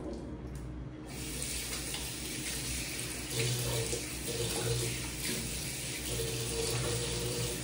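Tap water runs steadily into a sink while someone washes their face, a continuous soft splashing hiss with brief pauses at the start and no talking.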